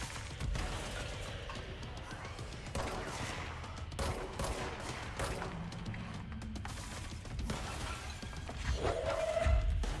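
Gunfire in the video game Control comes in repeated crackling bursts and shattering impacts, dense and fairly quiet throughout the scene, with brief low thuds and a little speech.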